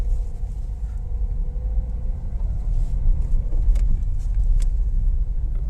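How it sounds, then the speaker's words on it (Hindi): A Renault Duster turbo mild hybrid SUV is being driven, heard from inside the cabin as a steady, loud low engine and road rumble that holds constant throughout, with light rattles and clicks above it. "गाड़ी चला रहा हूँ मैं"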